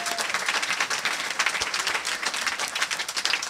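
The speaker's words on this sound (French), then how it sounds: "ça vraiment ça mérite des acclamations" A church congregation bursts into applause after a baptism, a brisk, fairly quiet wash of many hands clapping steadily for a few seconds without a break.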